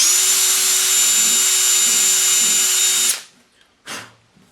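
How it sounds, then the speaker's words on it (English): A power drill bores a sound port through the body of an acoustic guitar, a loud steady whine lasting about three seconds before stopping, then a brief quieter burst follows. "this might look weird just holding it and drilling, but you get the most control."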